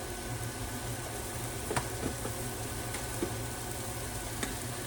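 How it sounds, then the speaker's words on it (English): Turkey sizzles steadily in a pan, a constant dense hiss of frying with a few faint clicks and taps from the pan along the way, no voices. "add in our turkey to the pan"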